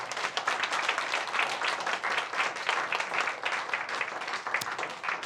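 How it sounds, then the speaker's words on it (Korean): A church congregation at a Korean worship service claps together in sustained, dense applause that stays steady for several seconds. "하나님께 감사의 박수 올려드리겠습니다."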